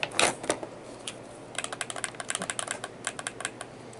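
Rapid, irregular plastic clicks from the buttons of a PowerA Stealth Blue Camo wired Xbox One controller, close and fairly loud. A few scattered presses come first, then a dense run of quick taps with no talking.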